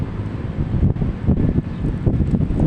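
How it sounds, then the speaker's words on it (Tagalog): Strong wind buffets the microphone in a steady roar with gusting surges, loud and close, no voices. "Lakas ng hangin."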